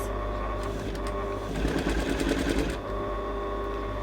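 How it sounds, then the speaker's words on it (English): A sewing machine stitches the lining side seam of a sleeveless dress in one continuous line at a 1.5 cm seam allowance, giving a rapid burst of stitching about a second long over a steady motor hum. "So I'm basically sewing my lining side seam together all in one continuous line with the front, with the side seam of my dress."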